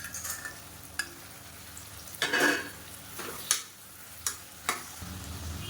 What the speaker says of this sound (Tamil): இப்போ அந்த எண்ணெயிலேயே இந்த சோயா சங்க்ஸ் வந்து நல்லா வதக்கியாச்சு